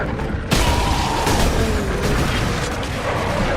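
Enemies blowing up in Space Marine, a loud sudden burst that leaves a dense, rumbling roar of battle noise running to the end, with no talk.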